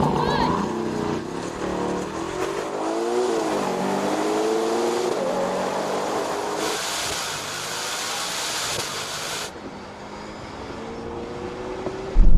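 A Ferrari V12 and a Kia race each other with engines revving up through rising gear pulls, the revs climbing and dropping under excited talk.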